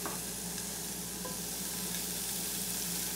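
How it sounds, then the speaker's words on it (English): Steady, dense sizzling of bacon frying in a pan, close and continuous with no voices. "hear that nice little sizzle in there"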